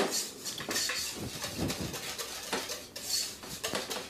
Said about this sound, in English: I'm going to mix up the yogurt, the lemon juice, and the instant vanilla pudding mix